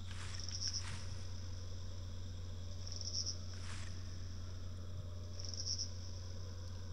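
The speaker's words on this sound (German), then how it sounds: "Sind es wieder nur Grashüpfer?" Grasshoppers chirp steadily in the video game Gunman Chronicles, a continuous insect buzz with repeated brighter bursts over a low, constant hum of ambience.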